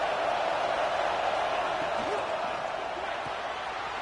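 Stadium crowd noise in a college football video game, a dense, sustained roar from fans backing the defense on a big third down, steady and loud throughout.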